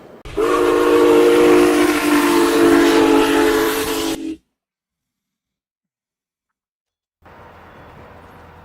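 In the Farming Simulator game, a train's steam whistle blows one long, loud, sustained blast for about four seconds, then cuts off into silence before faint rumbling returns.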